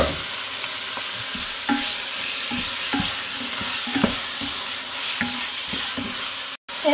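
Chicken breast sizzling in a pan of frying onions, a loud steady crackle with repeated scraping stirs and clinks throughout.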